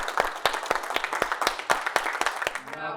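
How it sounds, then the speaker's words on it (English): Hands clap in a steady, quick rhythm for about three seconds at a Stop the Bleed tourniquet training session, each clap crisp and evenly spaced, and a tonal voice or music enters at the very end. "clap it up for yourself"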